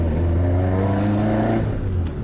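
Toyota AE86 engine pulling steadily under acceleration around 3000 rpm, heard from inside the car on the road, a loud continuous droning note rising slightly in pitch before easing off near the end.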